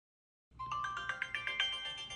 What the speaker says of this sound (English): You will see a list of preloaded ringtones. Tapping on any sound will play the preview.